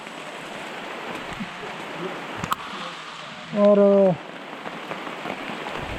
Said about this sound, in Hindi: तो अचानक आई है तेज बारिश